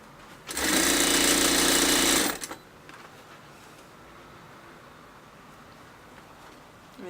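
A sewing machine stitches an elastic waistband casing in one loud, steady burst of just under two seconds, then stops, leaving quiet room tone.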